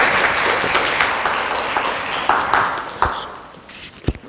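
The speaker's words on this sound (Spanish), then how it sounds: "por favor, un fuerte aplauso al autor" An audience at a lecture claps in a dense burst of applause that gradually thins out, ending with a few scattered claps and taps.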